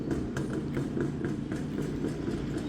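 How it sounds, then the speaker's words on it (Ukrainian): Diesel engine of a small utility vehicle at a rose garden running at idle, a continuous rough low rumble with a regular knocking pulse, fairly close and steady. "Що, заводиться транспорт, нормально?"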